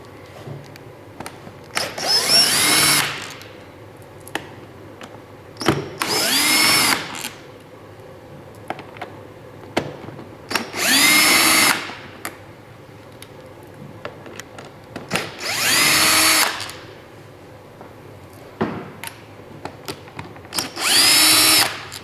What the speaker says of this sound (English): I'll go ahead and use a power screwdriver here just to speed this process up.